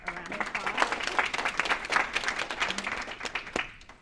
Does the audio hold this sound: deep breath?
no